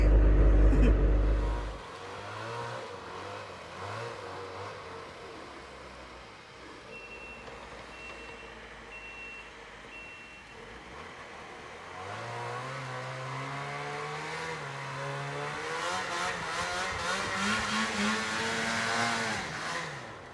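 A Ski-Doo Skandic snowmobile engine revs hard while climbing a steep snowy hill, a loud rising drone that surges and falls, with a steady high beeping partway through.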